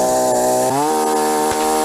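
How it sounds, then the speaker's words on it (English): A chainsaw engine runs close by during bridge building in a jungle, its tone holding steady and then rising sharply as it revs up. "Has he got a chainsaw?"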